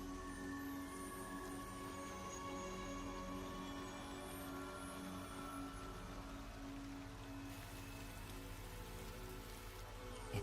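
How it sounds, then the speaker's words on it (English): Steady rain falls in a video game, a dense, even patter that continues unbroken for the whole stretch with no voices. "It's raining."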